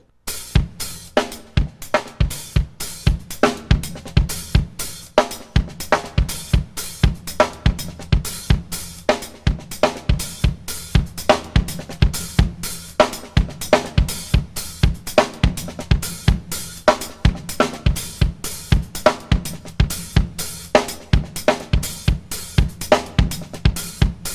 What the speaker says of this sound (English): going back and forth between the hi-hat and snare drum while this is going on.